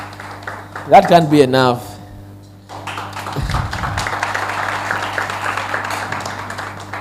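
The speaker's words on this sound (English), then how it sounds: "Let's clap for the Bill and Melinda Gates Foundation." An audience applauding for the Bill and Melinda Gates Foundation at an event, steady crowd clapping rising after someone speaks into a microphone and continuing for several seconds.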